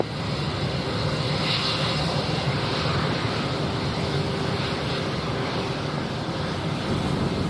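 Steady, loud jet roar of an airliner taking off from runway 07 at Montego Bay airport, Jamaica, a broad continuous rumble with wind noise throughout and no speech.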